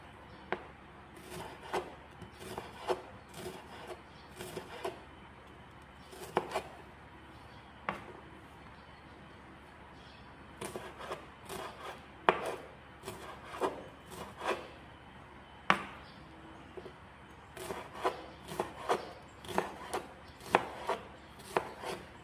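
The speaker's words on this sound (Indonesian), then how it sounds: "saya mau mengiris-ngiris bawang putih sama bawang merah" Knife slicing garlic and shallots on a wooden board for beef rendang, crisp rhythmic chops in irregular bursts with short pauses, close and fairly quiet with no talk.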